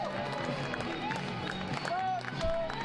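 Spectators cheer at an ultimate frisbee game between the Raleigh Flyers and Austin Sol, a mid-distance crowd roar with scattered shouts and whistles rising under a commentator's steady talk.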